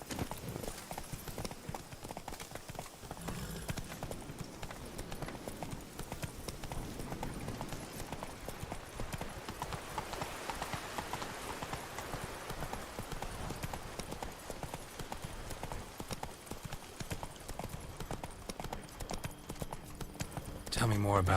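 Roach the horse trots along in Witcher 3: Blood and Wine, hooves clip-clopping steadily under game music, ambience and voices talking throughout.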